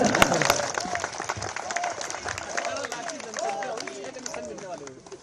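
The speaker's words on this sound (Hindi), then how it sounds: "जरा बजाइए ताली मोदी जी के लिए।" Audience applause at a political rally in Uttarakhand, sustained crowd clapping with chatter mixed in, loud and dense throughout, while a voice over loudspeakers carries on speaking over it.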